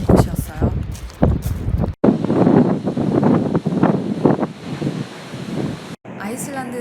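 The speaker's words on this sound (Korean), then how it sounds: "바람이 어마어마하게 부는 곳이었어요." Strong wind roars and buffets the microphone on the black-sand southern coast at Dyrhólaey, Iceland, beside the elephant-shaped sea rock, a loud, continuous gusting rush with no talk.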